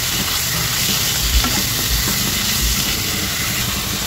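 Chicken sautés with garlic and onion in a hot pan, giving a loud, dense sizzle and hiss that runs without a break, with a few soft knocks from stirring. No one speaks.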